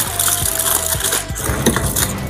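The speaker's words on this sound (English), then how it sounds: "I'm going to unwrap your fish and I'm going to do it." Close crinkling and crushing of wrapping as spicy Nigerian grilled fish is unwrapped, a steady dense rustle with a few sharper crackles throughout, no talking.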